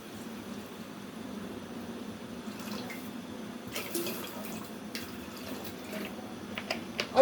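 Water flows steadily into a pot of rice being readied for cooking, a continuous faint running splash with a few brighter splashes near the end, no voices.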